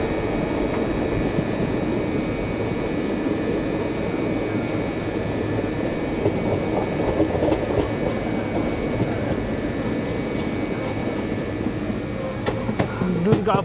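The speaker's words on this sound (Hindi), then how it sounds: "हमारी ब्लैक डायमंड एक्सप्रेस पहुंच गई अपना नौवां हल्ट दुर्गापुर रेलवे स्टेशन पर" Black Diamond Express superfast train running toward Durgapur station on the Dhanbad–Howrah route, a steady loud broadband rumble of wheels and carriage noise throughout, with faint clatter near the end.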